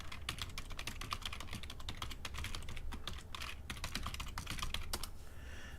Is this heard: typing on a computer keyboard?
yes